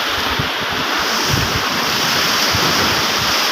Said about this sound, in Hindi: आप देख सकते हैं यहाँ बड़ी तेज़ लहरें चल रही हैं, बड़े ख़तरनाक भी लग रहे हैं